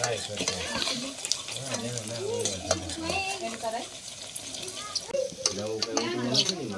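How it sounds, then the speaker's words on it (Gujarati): Green onion tempering sizzles and crackles steadily as it is stirred into green chickpeas for a Kathiyawadi-style curry, a close, continuous frying hiss broken by scraping and clinks, with a faint voice now and then. "આ ગ્રીન તડકાને આપણે લીલા ચણામાં એડ કરી દઈશું"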